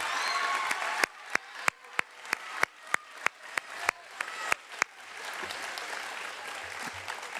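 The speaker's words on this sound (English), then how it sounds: "Give them a round of applause." Applause from an awards-ceremony audience at a school's annual awards, a crowd clapping under a string of sharp, evenly spaced loud clicks before settling into steady, softer clapping.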